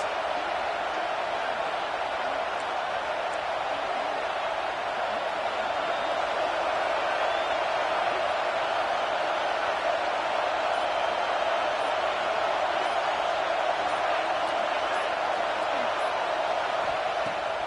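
Sustained crowd roar in a college football stadium during a fourth-down play between Colorado and Texas A&M, a loud, constant wall of noise from start to finish.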